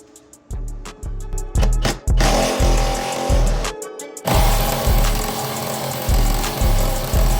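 Impact wrench with a socket spinning off a 16mm shock mount bolt on a BMW 335i during a coilover install, loud repeated rattling bursts in short pulses, close up with no talk.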